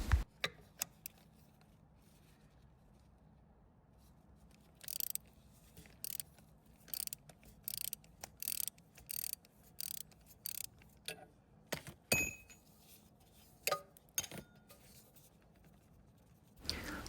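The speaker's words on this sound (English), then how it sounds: "put it over the oil filter and use the 17mm socket to turn it" A 17mm socket and ratchet turning an oil filter removal tool on a Honda Rebel 500, with a series of quiet, close ratcheting clicks in short irregular bursts separated by pauses.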